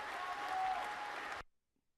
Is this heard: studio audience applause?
yes